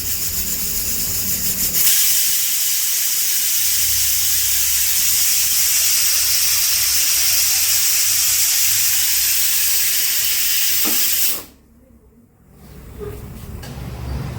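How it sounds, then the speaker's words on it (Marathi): A pressure cooker with chicken biryani vents steam on a stove, giving a loud continuous hissing whistle that lasts about ten seconds and then cuts off abruptly, followed by quieter background sound. "आपल्या 2 शिट्या झालेल्या आहेत कुकरच्या"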